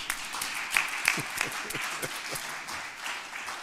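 Scattered, modest clapping from a small audience at a public meeting about the Kahkwa Bridge, a steady patter of hands with a few sharper claps standing out, moderately near.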